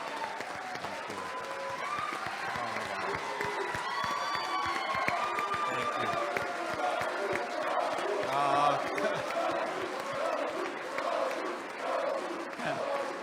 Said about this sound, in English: Let's give Michael one more round of applause as we thank him for all